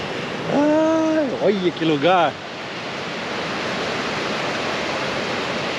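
Waterfall at Cachoeira do Gordo, a broad steady rush of falling water heard close and constant, with a brief excited exclamation from a woman near the start before the roar carries on alone.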